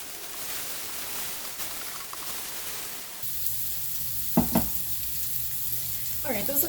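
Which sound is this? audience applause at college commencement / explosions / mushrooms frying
mushrooms frying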